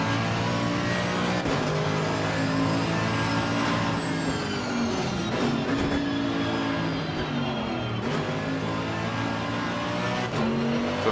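A race car at Imola in Assetto Corsa Competizione roars loudly and continuously, its engine pitch climbing through the gears with brief dips at the shifts and no break in the sound.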